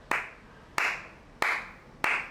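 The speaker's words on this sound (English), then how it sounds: "My film was the first film to get a clap." Four sharp, evenly spaced hand claps from a single person ring out in a quiet film hall, each crisp and close with a short echoing tail.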